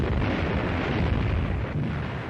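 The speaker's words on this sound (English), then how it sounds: "Destroyers answer with depth bombs." Depth bombs dropped by destroyers exploding at sea in 1943 wartime footage, a continuous loud, deep roaring rumble without distinct individual blasts, filling the short stretch.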